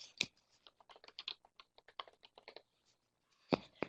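Typing new text on a computer keyboard, a quick burst of crisp close keystrokes with a short pause and a couple of heavier final taps, alone in a quiet room.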